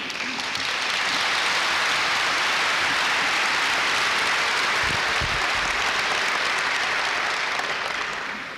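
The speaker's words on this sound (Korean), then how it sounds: "이제 나오실 때 여러분들이 박수로 격려해 주시기를 바랍니다." Audience applause at an evening mission conference welcomes a missionary serving in Turkey, steady dense clapping filling the hall for several seconds without a break.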